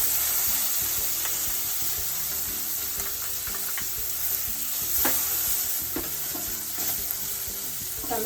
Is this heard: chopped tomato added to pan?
yes